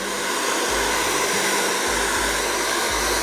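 A 3000-watt hair dryer blows hot air on a cheeseburger, producing a loud, steady, unbroken whoosh and motor hum throughout.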